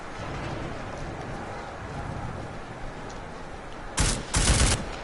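Gunfire erupts in the video game Deus Ex: Mankind Divided, starting as muffled rumbling combat in the background and then breaking into two loud, sharp bursts of shots near the end.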